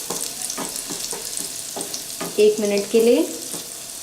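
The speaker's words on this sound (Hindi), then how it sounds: "अच्छे से इसे सौटे कर लेंगे" Chopped onion sautés in ghee and oil in a pan for a corn sabzi. A steady sizzle runs under regular spatula scrapes and taps, and someone speaks briefly near the end.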